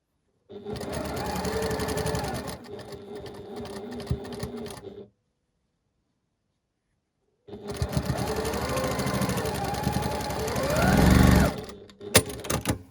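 A sewing machine stitches quilt block fabric in steady bursts: a run of rapid mechanical whirring, a pause of a few seconds, then another longer run that swells louder near its end before stopping with a few clacks.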